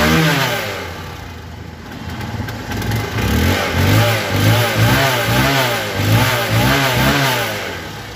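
A second-hand Hero Hunk 150cc motorcycle engine idles nearby, then revs repeatedly in rhythmic rising and falling pulls, loud and close with no voices.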